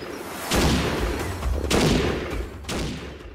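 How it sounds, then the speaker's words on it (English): Three booming shotgun blasts in Animal Revolt Battle Simulator during a dinosaur hunt, spaced about a second apart, each a heavy close report followed by a rumbling decay. "I don't know if the shotgun is the right weapon or tool to use to go on a dinosaur hunt"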